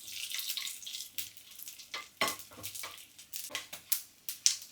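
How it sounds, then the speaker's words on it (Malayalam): Mustard seeds and dried red chillies fry in hot oil for a Kerala mango curry, giving a faint, crackling sizzle with scattered pops and occasional stirring scrapes. "ഇനി വറ്റൽമുളക് കടുക് വറക്കാൻ."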